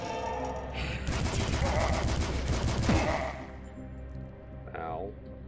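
Machine gun fire in the retro shooter Dusk rattles in a fast, loud burst for about two seconds, then fades into quieter background sounds, with a brief spoken exclamation near the end.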